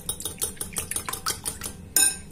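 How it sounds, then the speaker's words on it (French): Eggs beaten briskly in a bowl with a fork or whisk for a crustless savoury pie, a quick, regular run of close clinking metal-on-bowl taps ending in a louder scrape. "On va commencer par battre les œufs."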